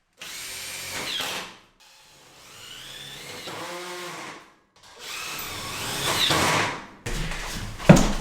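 A power drill bores into metal during bathroom tiling work, in several separate bursts of whining, revving motor noise with short pauses between them, loud and close.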